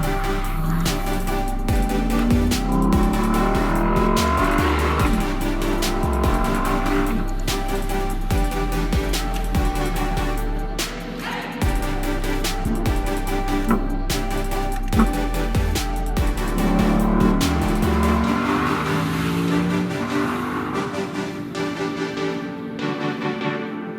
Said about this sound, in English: What a sound. What an exhaust.